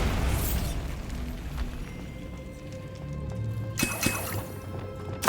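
A Bombarda blasting spell from Hogwarts Legacy goes off with a sudden, loud explosive burst late in the clip, after quieter rumbling and dripping game ambience.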